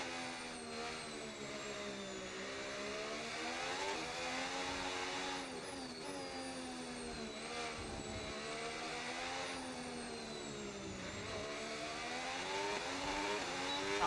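F1 race car in the F1 26 video game accelerating at full power, a loud, sustained engine whine climbing steadily in pitch through the gears, with brief dips at shifts and no talk over it.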